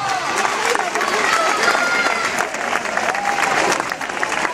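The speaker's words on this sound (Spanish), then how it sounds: "Mira, mira, mira qué aplauso que te da la gente de tu tierra." A crowd applauds and cheers at an award ceremony for a 10K race, with steady, dense clapping close around and people's voices calling out over it throughout.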